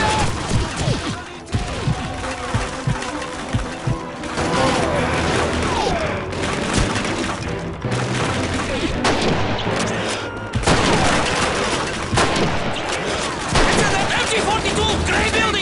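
Call of Duty 2 wartime battle, dense rattling gunfire and booming blasts in a loud continuous barrage with shouted voices mixed in, including a German MG42 machine gun position firing.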